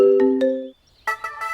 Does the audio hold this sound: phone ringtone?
yes